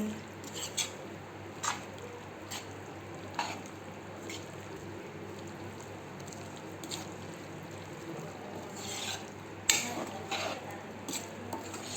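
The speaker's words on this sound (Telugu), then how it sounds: "ఇప్పుడు దీంట్లో పాలు వేస్తున్నాను. పాలు వేసుకొని మంచిగా కలుపుకోవాలి." A spoon stirs ridge gourd curry with milk added in a metal pot, giving soft scraping and occasional sharp clinks against the rim over a low steady hum, with no speech.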